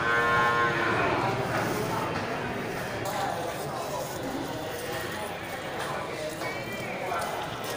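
Water buffalo lowing moos rise over a busy, noisy crowd at a livestock market, with people talking in the background and occasional hoof clatter.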